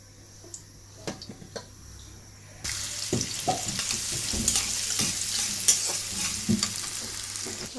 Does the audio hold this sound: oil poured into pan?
yes